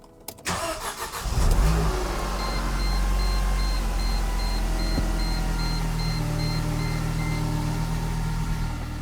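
A Mercedes C-Class engine cranks and catches after a coolant tank replacement, then settles into a steady, low, even idle with a faint recurring electronic chime from the dashboard.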